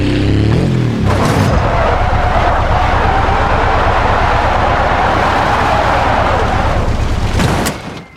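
A Porsche 911 in BeamNG Drive accelerates hard, a loud continuous engine roar that holds steady for several seconds before cutting off abruptly near the end.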